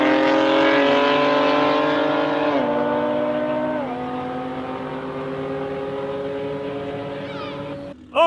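A 700 hp BMW G81 M3 Touring drag racing an Audi R8 V10, with a loud, sustained engine roar that steps down through several gear shifts and ends in a sharp burst.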